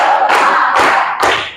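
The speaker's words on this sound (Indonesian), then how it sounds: "Tepuk semangat 3 kali." A group of teachers doing a rhythmic spirit clap: three loud, sharp unison claps spaced about half a second apart, heard over sustained group voices.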